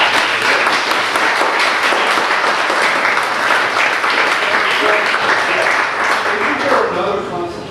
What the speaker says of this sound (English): I just think both people should get an applause and take the time out.